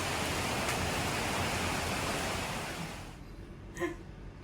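Steady broadband hiss of rain falling, loud and continuous, easing slightly near the end, with a brief faint knock.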